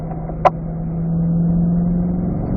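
A Corvette at an owner school on a race track holds fourth gear through a turn, its engine a steady, loud drone close by, with a brief sharp click or knock near the start and no talk.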